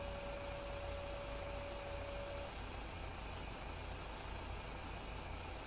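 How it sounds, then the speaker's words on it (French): A tractor engine idles low and steady while reversing in Farming Simulator 2015, a quiet continuous rumble with a faint tonal whine in the first few seconds, no voices. "Alors, on va reculer tranquillement le tracteur."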